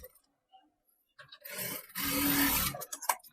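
A sewing machine runs a stitching pass along kurti fabric, a steady whirring rattle of about a second and a half, close by, with short handling rustles before and after.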